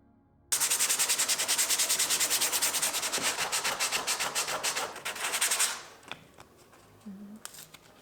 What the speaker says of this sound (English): I did sand it down with some 80 grit sandpaper